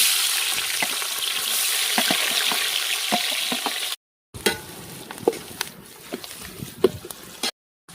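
Whole spices such as cinnamon, cloves, cardamom, star anise and bay leaf fry in hot oil for a biryani masala, a loud dense sizzle with scattered pops and stirring clicks, cut by two short silences.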